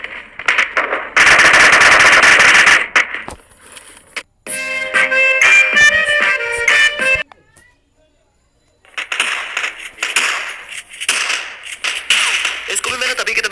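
Rapid bursts of MP5 submachine gun fire in a video game, loud dense automatic volleys that come in and out, with a stretch of louder mechanical clatter in the middle and talk alongside.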